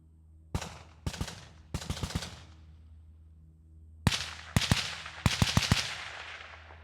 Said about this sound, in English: The microphone is now 100 yards downrange. We're going to be shooting past it.